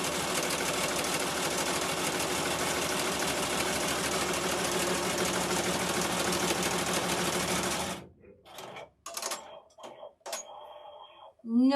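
A machine embroidery unit stitches an in-the-hoop zipper bag, running loud and fast with a dense rapid needle rhythm for about eight seconds, then stops, leaving scattered clicks and handling noises.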